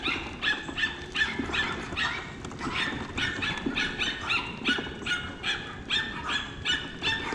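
A dog barks over and over in a steady, fairly even rhythm, close by and moderately loud, with no talking.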